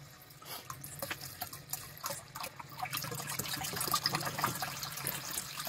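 Water runs steadily from a tap into containers late at night, a continuous splashing gush that gradually deepens as the vessels fill.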